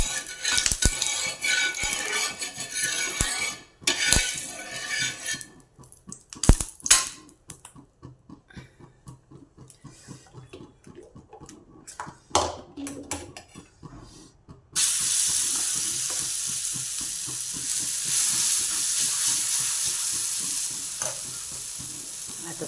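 Oil and mung bean and jowar flour batter hit a fully heated griddle, with close scraping and stirring clatter first, then a loud continuous sizzle and hiss that takes over and holds steady to the end.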